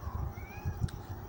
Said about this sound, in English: it's the sound of my cat